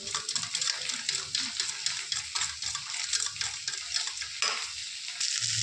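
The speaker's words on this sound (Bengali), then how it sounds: "দেখো এখানে পেঁয়াজ ক্যাপসিকাম সুন্দর করে ভাজা হয়ে গেছে" Onion and capsicum fry in a pan for chilli soyabean, a steady close sizzle with stirring clicks and light scrapes throughout, no talking.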